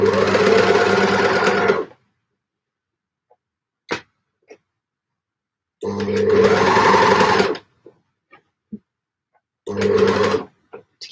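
Domestic sewing machine stitching fabric for gable tops, running in three loud, steady bursts of about two seconds, one second and a bit less, separated by quiet gaps with faint handling clicks.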